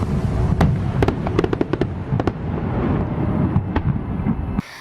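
New Year's fireworks display heard as loud, sharp bangs and crackling bursts in irregular succession over a rumbling background, cut off abruptly at the end.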